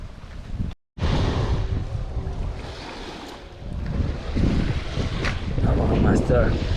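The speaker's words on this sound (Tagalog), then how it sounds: "Medyo mahangin." Wind blowing outdoors at a fishing spot, buffeting the microphone in uneven rumbling gusts with a brief dropout near the start, while people talk faintly in the background.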